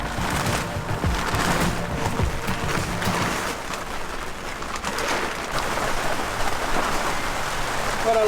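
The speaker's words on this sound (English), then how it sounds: "Some rain." Rain falling steadily on surfaces and stored gear outdoors, a dense patter of drops that swells and eases slightly over several seconds, with no talk.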